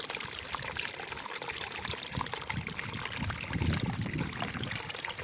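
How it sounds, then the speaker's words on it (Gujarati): Steady rushing water of a mountain stream falling over rocks flows and splashes continuously, close by, a constant broadband wash with no talking. "જો મિત્ર ઝરણું કેવું પડે છે"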